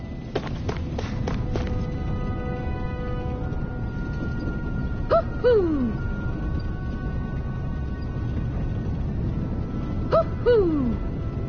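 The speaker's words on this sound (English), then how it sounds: "That's an unusual bird. It's an owl." An owl hoots in a video game: two clear descending hoots several seconds apart, loud and near, over steady running footsteps and a continuous background bed, with a burst of thumps at the start.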